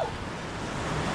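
Lava Falls rapid on a river roars as a dense, steady rush of churning water, loud and close with wind buffeting the microphone, over a very short stretch.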